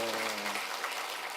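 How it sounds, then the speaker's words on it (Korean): Church congregation at a Sunday service clapping together, a dense, even burst of applause filling the room, with a voice briefly heard at the start. "박수 쳐주십시오"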